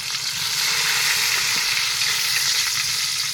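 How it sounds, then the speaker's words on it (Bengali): Two or three bay leaves sizzle in hot pure mustard oil in a pan for pilau, a steady, close, crackling fry that holds evenly throughout with no talk. "প্রথমে দিয়ে দিই এই যে তেজপাতা, এই যে তেজপাতা দিয়ে দিতেছি, 2-3টা তেজপাতা দিতেছি প্রথমেই"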